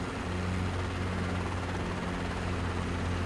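Steady Robinson R22 helicopter rotor and engine drone in a flight simulator game, a constant dense hum with low rhythmic thumping, loud and continuous throughout the short stretch while throttling down.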